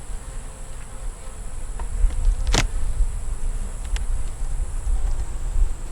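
Honeybees swarm loudly around an opened hive during an inspection, a dense, close, continuous buzz with a sharp click of frames or tools partway through.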